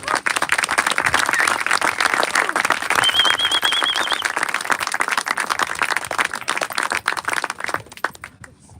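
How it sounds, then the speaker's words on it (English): An audience at a blues and gospel concert breaks into sustained, dense applause welcoming a performer to the stage, clapping loudly for several seconds before thinning out at the end. "Big applause."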